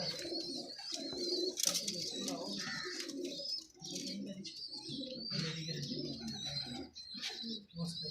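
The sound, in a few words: pigeons cooing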